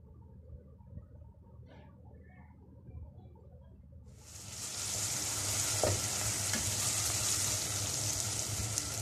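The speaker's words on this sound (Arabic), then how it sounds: "انا هحط شويه زيت في الحله واول ما الزيت هيسخن انا هنزل عليه على طول بالبصل" Onions drop into hot oil in a cooking pot, setting off a loud, steady sizzle that jumps in abruptly partway through after a quieter stretch of low background noise and continues close and unbroken to the end.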